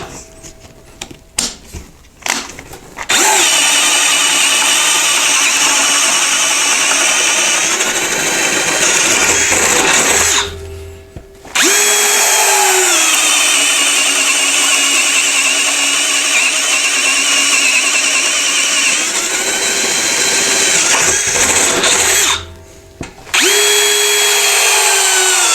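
A Ryobi HP One+ cordless right angle drill runs loud and steady in two long bursts with a high motor whine, separated by brief pauses, and short stop-start spurts at the beginning.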